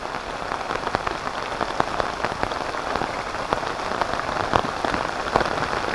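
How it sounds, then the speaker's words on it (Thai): Steady rain pattering on a surface outdoors, a dense, even hiss scattered with sharper individual drops, close and continuous with no talk. "ฝนมาแล้ว"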